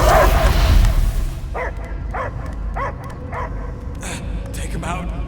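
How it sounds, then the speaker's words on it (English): A dog in the Guardians of the Galaxy video game barks and whimpers in a series of short, evenly spaced yelps over a rumbling game soundtrack, with brief voices and effects at the start. "I hear only barking."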